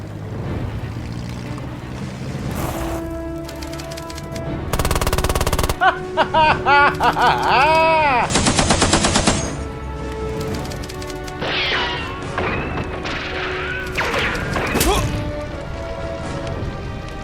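Bursts of automatic gunfire and sharp impacts from a tabletop wargame battle scene with a weapons team firing, dense and loud over music-like tones and shouted voices.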